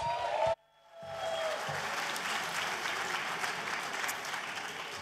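A large audience breaks into sustained applause at the 6th Asian Awards ceremony after a short pause. The clapping is full and steady, and it sounds somewhat distant.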